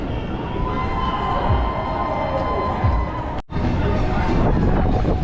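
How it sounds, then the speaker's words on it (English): A large, dense crowd murmurs and chatters outdoors at a Universal Studios show in Florida, a steady broad hubbub with wind buffeting the microphone and one brief dropout midway. "There's a massive crowd."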